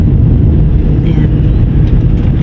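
Steady low rumble of heavy vehicle traffic on a street in Puerto Princesa City after a flood, with loud wind buffeting on the microphone and a faint passing whine.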